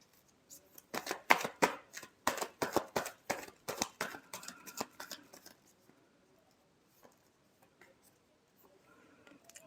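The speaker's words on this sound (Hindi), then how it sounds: "Last shuffle." Tarot cards are shuffled close up, giving a series of crisp riffling and snapping bursts for several seconds before fading into quiet handling.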